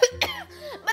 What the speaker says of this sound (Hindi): खांसी भी उठ गई